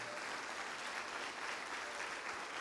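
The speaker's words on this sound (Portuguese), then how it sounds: "Vamos aplaudir mais" A church congregation applauds steadily throughout, a dense wash of clapping from many hands at a moderate, even level with no voices rising above it.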